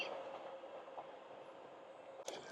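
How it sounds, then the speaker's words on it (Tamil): A train passes by Tampines Boulevard Park East as a faint, distant rumble, steady for a couple of seconds, ending with a short clatter. "அந்த ட்ரெயின் போகிறதெல்லாம் பார்க்குறதுக்கு வசதியாட்டம்."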